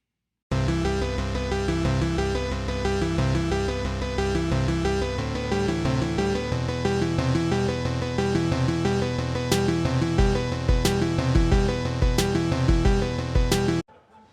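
A synthesized recreation of the Stranger Things theme, made in an online music maker, loops steadily over a pulsing bass line, with thin electronic tones and faint higher blips joining later, then it stops abruptly.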